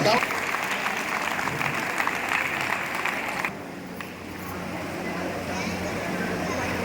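Audience clapping to welcome a guest onto the stage at a trust event, a dense burst of applause for about three seconds that then drops away to quieter room noise.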